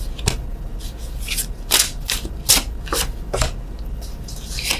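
Tarot cards riffle and slap together in a series of sharp, crisp shuffling bursts, close and fairly loud, with short pauses between them and no talking.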